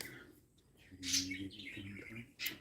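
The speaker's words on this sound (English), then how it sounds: "My birds have a lot to say, that's for sure." Pet birds chirping indoors, a short burst of bright tweets and trills over a soft low hum, fairly close and moderately loud.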